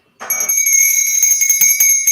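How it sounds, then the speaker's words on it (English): A bright metallic bell rings loudly and close, struck once and left to sustain with a long shimmering ring that carries on throughout without fading. "Ring that bell, baby."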